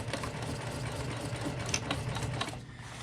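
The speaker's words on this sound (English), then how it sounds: "place it on top of the fabric, line it up with your seam allowance, and begin stitching across" A sewing machine runs steadily, stitching a layer of vinyl onto fabric for a tote bag, its needle chattering in a fast, even rhythm throughout without pause.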